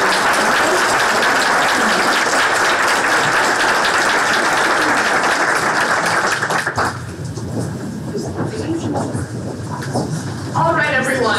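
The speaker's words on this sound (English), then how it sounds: "I'd love for us all to give a round of applause." A large audience at an ethics conference claps loudly and steadily for several seconds, then the applause dies away into quieter room noise.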